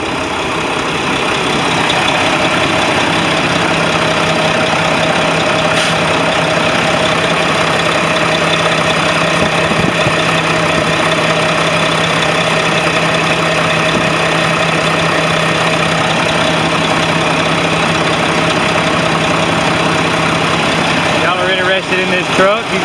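A 2013 Mack Pinnacle CHU613 day cab truck idles steadily with a continuous low diesel hum and faint knock, heard close and level throughout, with someone talking over it.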